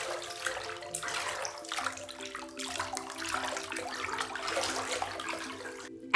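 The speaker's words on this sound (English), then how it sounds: "Mix it with your hand." A hand swishes through bath water to mix in apple cider vinegar, producing close, continuous sloshing and splashing in irregular surges, with no talking.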